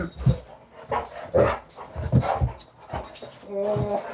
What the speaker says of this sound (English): Hush, you crazy dog.